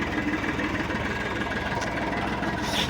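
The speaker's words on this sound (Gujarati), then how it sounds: "આપણું ટ્રેક્ટર જાય છે" A steady, rumbling tractor engine runs continuously on a farm during wheat sowing, with a dense low drone and no pauses.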